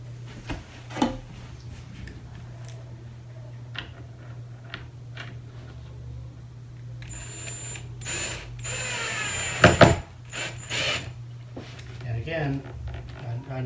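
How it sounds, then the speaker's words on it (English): A power drill drives a screw during assembly of an IKEA Kleppstad armoire, with short whirring bursts, clicks and handling knocks, the loudest run in the second half. "I think I'm actually going to use the drill for this, since the hole is not fully bored out."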